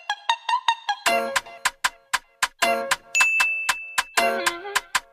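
A notification bell sound effect plays as a run of bright, quick chimes and dings in a rhythmic melodic pattern, with one sustained high tone in the middle, clean and alone without voices.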